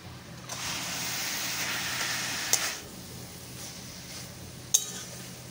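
Green chillies and fried coconut stirred into a banana flower curry in a pan, giving a steady soft sizzle with a couple of sharp utensil clinks against the pan.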